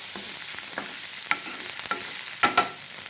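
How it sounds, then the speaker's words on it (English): Ginger garlic paste fries in a pan for an oyster sauce squid stir-fry, a steady close sizzle broken by light scraping stirs and a few sharper clicks of the utensil toward the end. "just cook this ginger garlic paste until the raw smell goes off"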